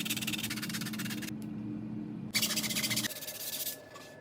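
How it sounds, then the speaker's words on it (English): Sandpaper, 80 to 220 grit, rubbed by hand over a 3D printed Dr Doom helmet, giving steady close scratchy strokes that stop briefly and then resume with shorter rubs. "let's jump into the sanding"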